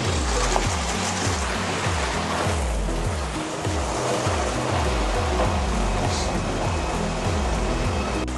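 Water gushes steadily into a barrel as a fire sprinkler system drains, a loud continuous rushing with a rhythmic churning pulse underneath, no voices.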